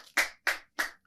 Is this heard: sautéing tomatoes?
no